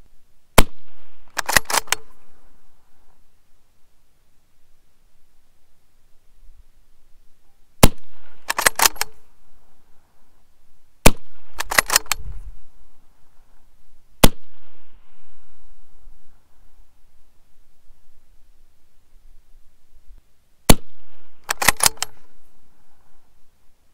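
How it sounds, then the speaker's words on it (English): A 6mm Creedmoor rifle fired at a 1,600-yard target outdoors, with four sharp, loud shots spaced several seconds apart, each followed by brief clattering handling noise and quiet between. "Four shots."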